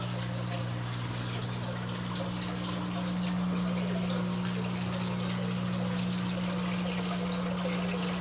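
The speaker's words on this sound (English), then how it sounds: "I got a power head in there just mixing it up" An aquarium powerhead churns water in a basement sump tank, giving a steady hum with a continuous soft trickling and bubbling wash, fairly quiet and unbroken.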